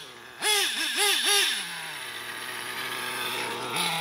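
A modified Alpha T850 nitro RC car with a .28 engine revs hard in several quick rising bursts, then settles into a steady, high, buzzing drone that lifts again briefly at the end. The sound is close and loud, with no talking.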